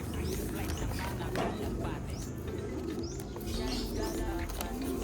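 Racing pigeons cooing and chirping in a loft, repeated soft bird calls over a dense, busy background, with voices talking in the mix.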